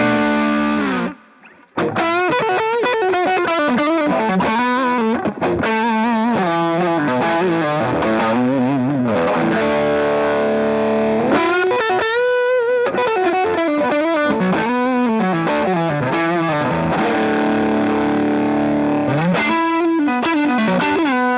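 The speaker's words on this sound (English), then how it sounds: "a popular thing to do is use the Klon Centaur as a boost for an already overdriven sound" Overdriven electric guitar pushed harder by a Klon Centaur boost pedal, a thick, gritty lead line with bent, sustained notes and a brief pause near the start, loud and close with no talking.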